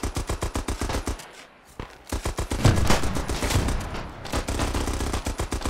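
Machine gun fire in the online shooter Beyond The Wire: loud, rapid, evenly spaced bursts with a short lull in the middle, then sustained automatic fire resuming, close and dominant.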